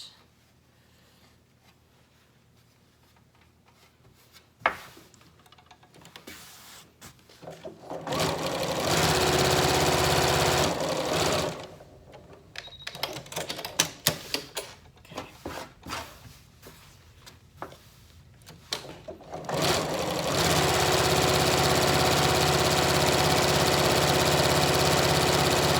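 A sewing machine works on a Yup'ik qaspeq, a traditional pullover garment, starting after quiet handling with short stop-start bursts of stitching, then two long, loud, steady runs.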